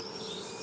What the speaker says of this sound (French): je me fie au son des abeilles et puis à leur façon de se promener